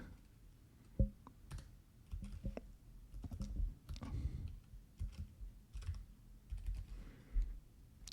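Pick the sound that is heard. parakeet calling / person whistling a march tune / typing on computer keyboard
typing on computer keyboard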